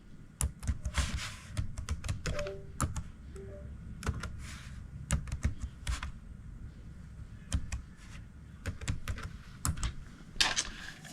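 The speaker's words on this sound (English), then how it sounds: "The chief will type in his or her password." A password is typed on a laptop keyboard as irregular bursts of close, crisp keystrokes. Short pauses fall between clusters of clicks, and nobody talks.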